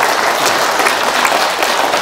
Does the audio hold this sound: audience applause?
yes